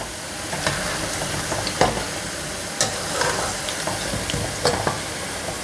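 Punugulu fritters made from dosa batter crackle and sizzle in hot oil as they are stirred back and forth, with scattered spoon clinks and scrapes over a constant near fry.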